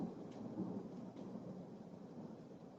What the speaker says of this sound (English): Did you hear the thunder?